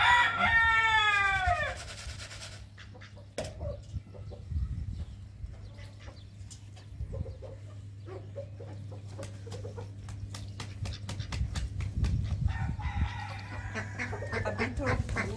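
Chickens cluck and a rooster crows in a backyard pet enclosure, with repeated close calls and squawks over a steady low hum, loudest in the first seconds and returning near the end.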